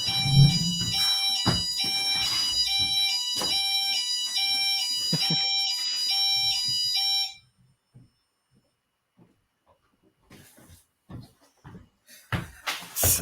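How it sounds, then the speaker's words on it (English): A house alarm sounds loudly for about seven seconds as a rapid, repeating pattern of high electronic beeps, then cuts off, leaving near silence broken by a few soft knocks and handling bumps. "I have an alarm in the house that sometimes goes off"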